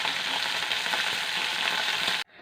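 Vegetables such as okra sautéing in a pan for a traditional Kerala sambar, a close, continuous crackling fry that runs evenly and then cuts off abruptly near the end.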